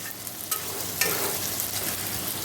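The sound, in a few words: potatoes stirred in a pan with turmeric, cumin and sugar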